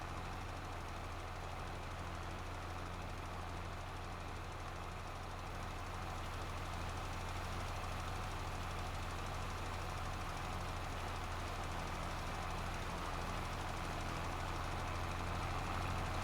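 Tractor engine idling in Farming Simulator, a steady low drone with a faint rattle that holds even and unbroken for the whole stretch, with nothing else over it.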